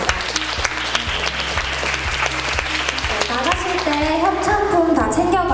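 An orientation crowd claps for the event organizers in a loud, sustained burst of many hands, layered over background music with a steady bass beat and a rising melodic line.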